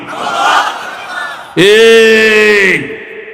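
A large crowd at an Islamic sermon gathering roars a unified chant in answer to a call, a loud sustained shout of many voices lasting over a second after a preceding murmur, then fading.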